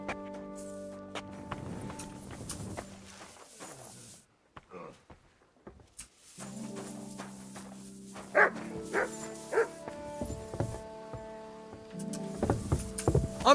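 A dog in Kingdom Come: Deliverance II barks repeatedly in a medieval game setting, loud close woofs and yips arriving in uneven bursts over a low background hum, with brief quiet gaps between barks.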